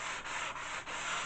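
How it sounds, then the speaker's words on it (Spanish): Sandpaper held in the hand rubs back and forth along the grain of a very soft wood in a restoration workshop. Close, steady scratchy strokes come in a quick, even rhythm with brief dips between passes, and nobody speaks. "ya veis que con una lija de mano se trabaja también bastante bien"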